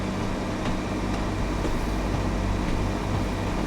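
A train runs in Train Sim World 5 on the Blackpool South to Ormskirk route, giving a steady, dense rumble and hum of the rolling train with a low engine drone and faint periodic rail clicks, heard from inside.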